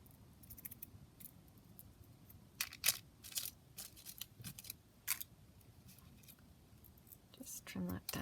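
Scissors snip fabric trim, a scattering of quiet, sharp clicks and cuts near the microphone, with soft speech nearby.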